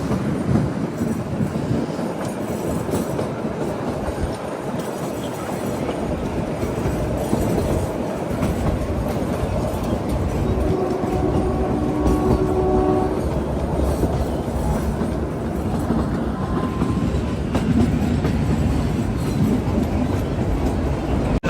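The Kalka–Shimla passenger train 52455, Himalayan Queen, pulls away from Barog station, its carriages rumbling steadily up close with wheel clatter and squeal, plus a brief horn-like tone midway.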